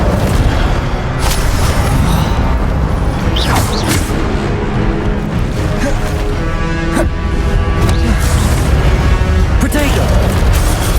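Incendio fire spell cast in Hogwarts Legacy: a loud, dense roar of game combat with booming bursts and crackling pops, continuous throughout with layered mechanical effects.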